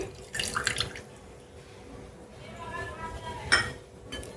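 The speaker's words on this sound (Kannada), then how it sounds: "ಒಂದು ಸ್ವಲ್ಪ ನೀರನ್ನ ಹಾಕ್ಕೊಂಡು" A little water pours into a batter made without soda, Eno or curd, a brief close splash early on followed by quiet clinks of a bowl or utensil against a low background.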